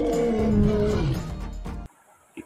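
A recorded lion roar played for a toy lion, heard as one loud, close, rumbling roar that trails off and then cuts to near silence.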